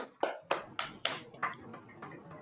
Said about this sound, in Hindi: अपने लिए एक जोरदार ताली बजाइए आज के इस ध्यान के लिए